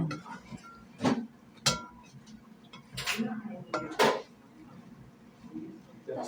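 A spoon or ladle clinks against a cooking pot of mung bean (monggo) stew in a home kitchen, giving several sharp separate metallic knocks with soft scraping between them while people talk quietly.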